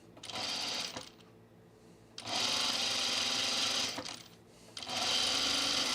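A sewing machine stitches a rayon dress in three bursts separated by short pauses, each a close, steady whir of fast stitching.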